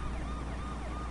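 Police car siren in a truck driving video game, a steady wailing siren sweeping up and down continuously and loudly, with game engine rumble underneath and no talk.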